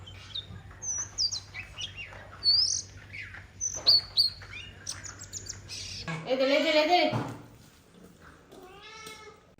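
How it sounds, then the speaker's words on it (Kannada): Several birds chirp and call after rain in short, scattered bursts, then a louder drawn-out cry like a meow rises briefly before more chirping. "ಮಳೆ ಬಂದ ನಂತರ ಹಕ್ಕಿಗಳ ಬೊಬ್ಬೆ ನೋಡಿ"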